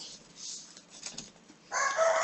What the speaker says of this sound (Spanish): Ya está cantando el gallo